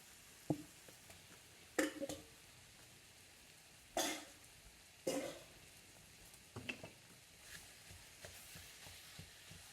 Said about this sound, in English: I'm going to keep my pan super hot, and then I'm going to add my ground beef.